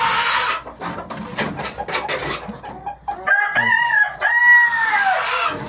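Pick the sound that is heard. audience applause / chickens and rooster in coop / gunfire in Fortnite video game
chickens and rooster in coop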